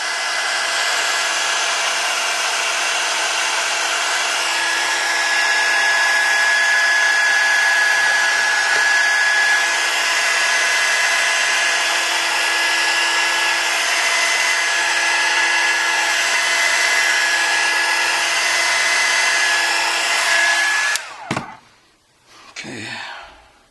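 A heat gun warming a cracked iPad Air screen to loosen it for removal, a loud, steady, close blowing whine running unbroken for about twenty seconds before it cuts off, followed by brief handling noises.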